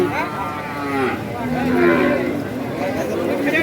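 Fattened Sahiwal bulls at the Ambari haat cattle market let out long, low moos that rise and fall over a busy backdrop of crowd chatter.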